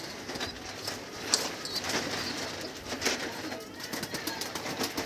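Young red homing pigeons coo softly in a loft, with repeated low, throaty calls over faint background rustle.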